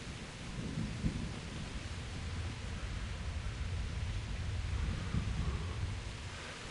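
Thunder rumbles low and continuous through a rainy storm in the medieval game Kingdom Come: Deliverance, a steady wash of rain and rolling thunder swelling slightly midway, with no voices.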